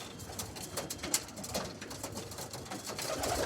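Pigeons shuffle and peck at feed nearby, with soft scattered clicks and taps, occasional faint cooing, and a light rustling background throughout.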